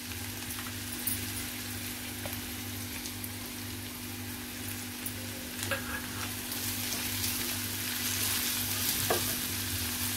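Garlic dropped into onions already frying in a pan for a spicy masala brinjal dish, giving a steady close sizzle with occasional scrapes of stirring throughout, no voices.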